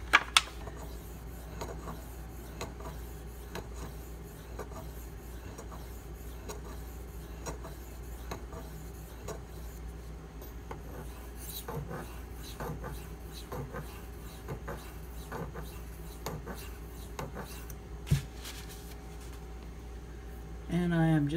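Spyderco Manix 2 knife being sharpened on a Pride Abrasive stone: quiet, evenly spaced rasping strokes repeat in a steady rhythm over a low constant hum, with a couple of sharper knocks.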